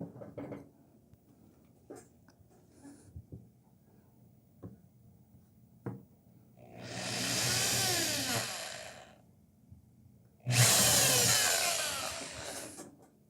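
Two sustained bursts of a power drill boring a small hole into the side of a TV antenna housing, each lasting a few seconds, preceded by light tapping and handling noises.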